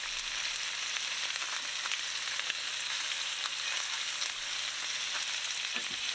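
Salisbury steak patties sizzle steadily in a hot pan after being flipped, a constant crackling hiss with a faint low hum beneath and no voices.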